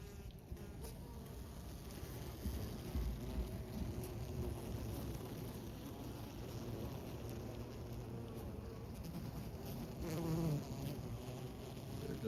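Honey bees hum in a steady, soft buzz while feeding on sugar at a hive in late winter, a continuous swarm drone with faint wind and no speech.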